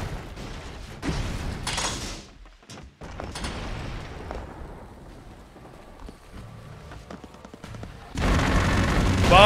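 Bomb explosions in the video game Broforce, several booming bursts with rattling gunfire and mechanical clatter, separated by quieter gaps, ending in a louder burst of noise.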